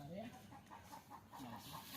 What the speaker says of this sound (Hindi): मुर्गा भैया चुप हो जाइए